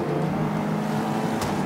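Race cars in Forza Motorsport 5 on Xbox One drone with a steady, mid-loud engine whine that holds evenly throughout and ends in a brief sharp burst.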